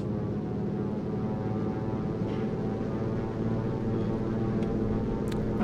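A single-engine de Havilland Beaver propeller plane in a flight simulator hums with a steady, dense drone after throttling up, the engine note holding even and continuous with no voices over it.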